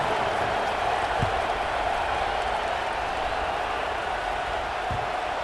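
Steady stadium crowd noise from a college football video game, a broad continuous murmur with faint scattered applause, fairly distant and even in level with no clear peaks.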